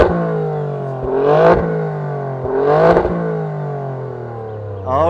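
An Alfa Romeo Stelvio Quadrifoglio's V6 engine idles with a deep, loud burble, then is blipped in two sharp revs that climb and fall back, with a third rise starting at the end, close and with no talk.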